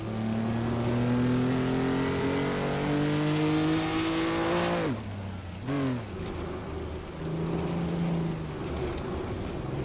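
Simulated race car engines in a video game race howl close and loud, revs climbing steadily before a sharp drop and quick gear shifts, then a second car's tone joins as one moves to overtake.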